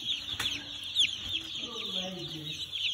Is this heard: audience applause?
no